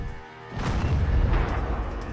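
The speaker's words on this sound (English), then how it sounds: "we've recorded weapons of all kinds small arms, RPG, tank cannon fire, three different helicopters, weapon reloads, explosions." Weapon fire and explosions recorded for the Modern Warfare 2 game: a single heavy, booming blast erupts after a brief quiet lead-in, then rolls into a sustained, loud low rumble that slowly fades.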